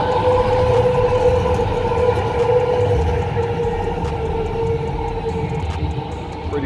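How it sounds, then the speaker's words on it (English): A Houston METRORail light rail train arrives, a continuous loud rumble with a steady tonal hum and squeal from the wheels, heard up close without talk. "and here comes the Metro rail."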